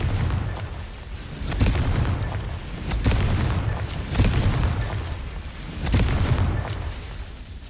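Repeated booming Confringo fire-spell explosions from Hogwarts Legacy, roughly five heavy blasts spaced a second or two apart, loud and close with rumbling low-end tails.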